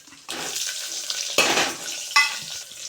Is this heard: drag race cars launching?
no